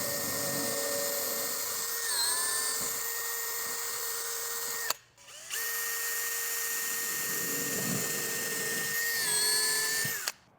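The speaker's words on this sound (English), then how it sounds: "I just use a drill with the drill bit that comes in the set of anchors with screws." A power drill whines at high pitch while boring holes in a wall for anchor clips on slat wall panels, running steadily for several seconds, cutting out briefly, then revving again, close and loud with no talk.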